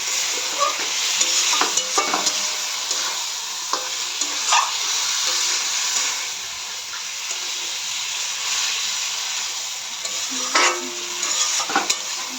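Chicken for biryani is sautéed in a pan, with a constant loud sizzle and repeated scraping strokes of a stirring spoon throughout.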